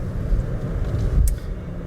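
A 2018 Cadillac CTS V-Sport with turbo lag, in sport setting, accelerates hard off the line, a loud close engine rumble building and surging, with a brief sharp pop near the end.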